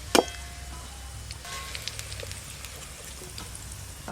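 Sliced onions for beresta fry to golden brown in hot oil with a steady, soft sizzle. A sharp clank of a utensil sounds at the start.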